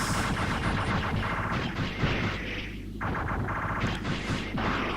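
Rocket fists fired in MegaMan 64 amid a dense, continuous barrage of booming, gunfire-like game blasts, loud and constant throughout with no talk.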